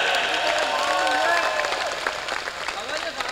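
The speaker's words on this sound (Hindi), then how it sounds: "एक बार उस बहन के लिए ताली बजाया।" An audience at a live comedy show bursts into steady applause, a dense wash of many hands clapping that fills the space and tapers slightly toward the end.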